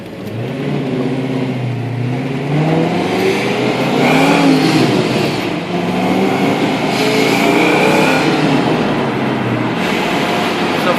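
A supercharged 1995 Ford Mustang engine runs loud and close, its revs rising and falling in steady sweeps with a whining, throaty tone, no talking over it.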